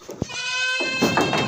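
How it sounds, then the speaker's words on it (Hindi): A breeder goat on a goat farm gives a loud, close bleat with a wavering nasal tone, followed by rustling and faint farmyard noise at the end. "ये ब्रीडर एक बकरा है।"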